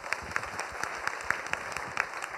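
Church congregation clapping together to give glory to God, a steady run of distinct, fairly quiet claps spread evenly through the moment.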